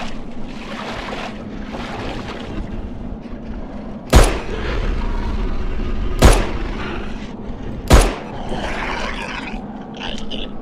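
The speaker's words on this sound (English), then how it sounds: "Give me the machine gun." Machine gun fire in the video game Fobia - St. Dinfna Hotel, heard as three sharp, loud bursts spaced a few seconds apart over a steady low ambient drone.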